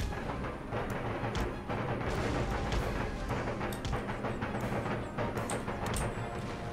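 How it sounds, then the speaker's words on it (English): Musket volleys in Empire: Total War crackle in a dense, continuous barrage of overlapping gunfire and booms, loud and sustained throughout with sharper individual shots popping out. "fire off a volley"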